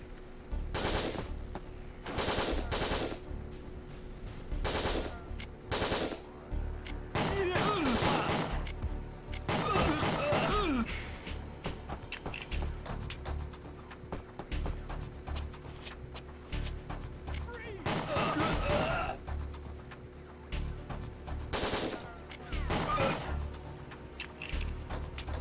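Rapid bursts of automatic gunfire from the video game Winback, repeated volleys spread throughout with short pauses between, loud and close, with footsteps and occasional clatter mixed in.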